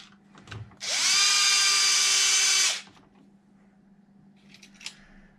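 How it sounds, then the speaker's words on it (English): A cordless power drill spins up for about two seconds, driving a screw into Losi Super Baja Rey 2.0 RC car parts, a steady high whine alone against light background noise. "So I'm going to get a couple screws started just to help me align it."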